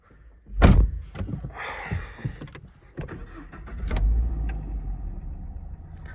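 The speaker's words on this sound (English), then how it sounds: "Close our door." A Toyota GR86 door swings shut with one solid thunk early on, followed by softer cabin handling knocks and a low rumble, fairly close and without talk.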